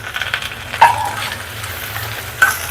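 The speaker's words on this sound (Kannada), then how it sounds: "ಇವು ಸ್ವಲ್ಪ ಎಣ್ಣೆಗೆ ಬೆಂದು ಸ್ವಲ್ಪ ಫ್ರೈ ಆಯಿತು" Capsicum and other vegetables fry in a little oil for fried rice, giving a steady close sizzle with a couple of brief sharper crackles and stirring scrapes, and no voices.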